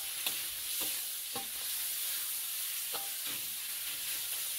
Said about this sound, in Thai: เริ่มผัดให้หมูเริ่มสุกเลยครับ